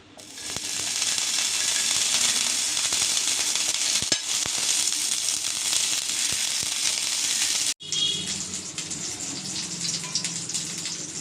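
Butter melts in a hot pan on the stove for masala bread, giving a loud, steady broadband sizzle that briefly cuts out, then resumes slightly softer, with no talking.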